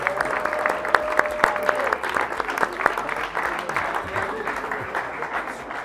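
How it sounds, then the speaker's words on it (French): Applause from a conference audience, dense clapping held steady throughout with some sharper individual claps standing out near the start. "On les applaudit, bravo!"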